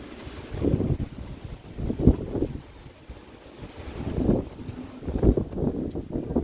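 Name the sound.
wind blowing outdoors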